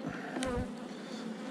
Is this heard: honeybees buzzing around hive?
yes